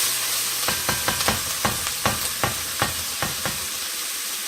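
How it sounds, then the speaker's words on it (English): Sausage and onion caramelizing in a pan, a continuous sizzle broken by a quick series of sharp stirring scrapes and pops at an even, brisk rhythm, close and fairly loud. "I just wanted to get it a little caramelized on this onion"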